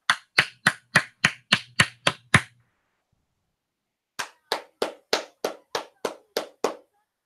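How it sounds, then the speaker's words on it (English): A WWE Super Show Down wrestling crowd bursts into rhythmic unison clapping, two loud runs of evenly spaced claps separated by a brief pause. "Listen to this crowd."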